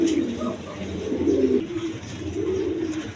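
Soft, repeated low cooing from Kokha pigeons at a pigeon market, close and continuous, with faint background noise.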